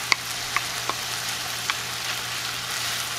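Chopped onion hits sausage already frying in a pan, bringing a steady close sizzle with a few sharp crackles and pops over a constant low hiss.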